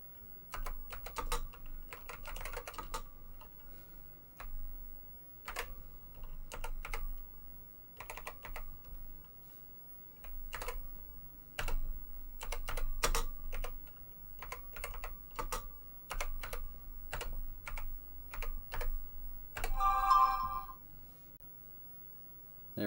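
Someone types on a TI-99/4A home computer keyboard. The keystrokes come close and quiet in uneven bursts of clicks, continuing steadily with no voices.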